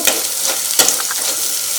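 Fenugreek seeds crackle and sizzle in hot oil nearby, a steady frying hiss with a sharp scrape or pop partway through.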